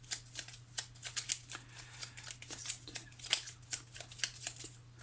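Petit Lenormand tarot-style cards being shuffled by hand, a steady run of soft riffling flicks and slaps close to the microphone with a low constant hum beneath and no talking.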